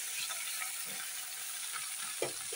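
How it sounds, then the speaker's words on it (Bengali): Rohu fish pieces fry in hot oil with a constant bright hiss and sizzle, punctuated by a few soft clicks and one sharper knock from the pan. "এবার দ্বিতীয়বারের গুলো দিয়ে দিই। দেখো লেজা দিয়ে দিলাম একসঙ্গে 2 পিস।"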